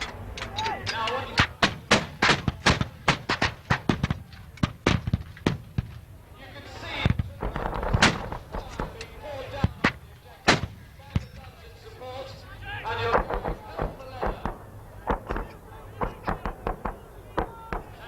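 Artillery fire supports a forward advance in a video game: a dense, irregular barrage of sharp, loud blasts and booms, some close and heavy, others quicker cracks, rolling on without pause.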